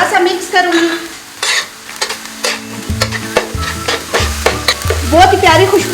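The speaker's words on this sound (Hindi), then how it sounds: "अब मैं इसमें ये टमाटर और मिर्च का पेस्ट डाल दूंगी, थोड़ा सा मिक्स करूंगी" Tomato and chili paste hits minced meat frying on a tawa, bursting into loud sizzling while a spoon scrapes and clinks repeatedly against the pan.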